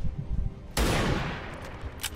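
Burst of gunfire in the turn-based tactics game XCOM 2, with a sudden loud broadband crack and a dense, rattling tail that decays over about a second and a half after a quieter lead-in.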